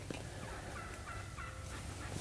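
A wild turkey gobbles in the field during a spring hunt in Nebraska, a faint, distant rattling call that repeats a few times over low outdoor background noise.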